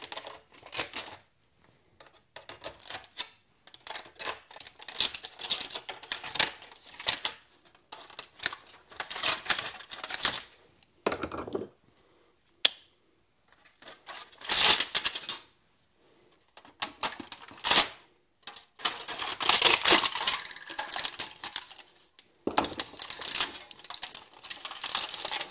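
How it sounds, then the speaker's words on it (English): Wrapping around a cooled, heat-treated steel part is cut and peeled open, giving intermittent bursts of crisp, crinkling, rustling noise with short quiet gaps between them, close up and with no talking. "the part's cooled down now, so what we'll do is we'll cut the wrapping and see what it looks like."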